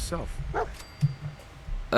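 A dog in the video game Fallout 4 gives a few short, close barks and yips in separate bursts, with someone talking around them.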